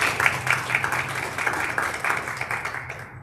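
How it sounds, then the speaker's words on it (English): At a school board meeting, an audience claps for a high school student, a brisk, even round of applause in a room that stops abruptly at the end. "Can we give a round of applause for our"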